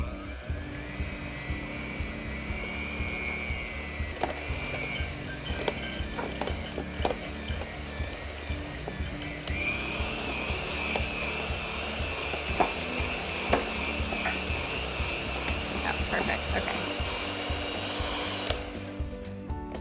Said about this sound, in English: use my handy dandy electric handheld mixer here, and we're gonna cream the butter and the cream cheese and the sugar together